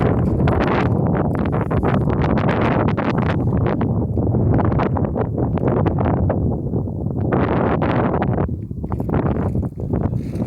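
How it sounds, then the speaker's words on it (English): Strong wind buffets the microphone in a constant loud rumble and roar, gusting unevenly throughout with no voices. "It's really windy out here."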